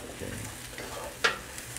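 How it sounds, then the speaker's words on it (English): Onions fry in a pan with sausages, giving a soft, steady sizzle close by, with one brief sharper clatter of stirring partway through. "fry till the onions is slightly soft"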